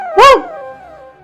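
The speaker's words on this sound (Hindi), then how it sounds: "वो कुत्ता धीरे से वनजा के पास पहुंची और भौंकने लगी।" A dog gives a single loud, close bark, its tone dropping into a brief whine that trails off.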